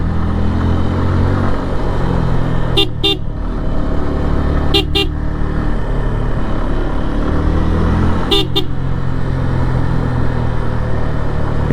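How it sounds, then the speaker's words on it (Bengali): A vehicle horn sounds in three short double toots over a constant rumble of engine and road noise while riding a motorbike along a broken road around a bend in Sylhet. "এই হর্নটা জোস লাগে আমার কাছে"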